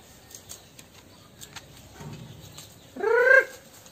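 Rhode Island Red chickens of a dark mahogany strain make a single short, loud cluck near the end, after a few seconds of faint ambient scratching and quiet background.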